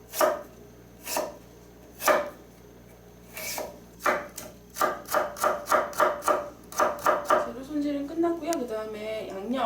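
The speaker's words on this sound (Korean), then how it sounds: "무도 마찬가지로 채 썰기 해주시면 됩니다" A knife julienning radish on a cutting board for a seaweed salad: sparse single chops at first, then a fast, steady run of crisp close-up knocks, with a brief voice near the end.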